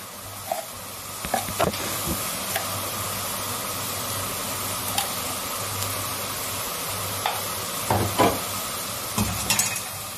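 Garlic and a seven-spice mix of cumin and black pepper stirred in a hot pot, a constant loud sizzle broken by scattered spoon scrapes and knocks against the metal.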